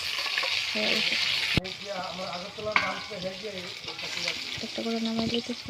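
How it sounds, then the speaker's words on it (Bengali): Flat beans, potato and tomato sizzle steadily in hot oil in a pan for a fish curry, with a couple of sharp clinks and stirring scrapes while someone talks over the frying. "সবজিগুলো দিয়ে লেছি, ভালো করে ভেজে নিয়ে"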